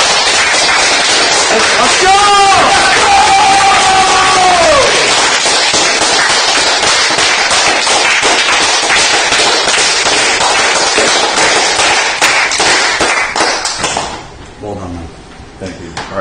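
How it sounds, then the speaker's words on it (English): A final round of applause and cheering for a departing contestant on a live-streamed reality show: dense, loud clapping with an excited shout early on, continuing steadily before dropping away near the end. "One last round of applause"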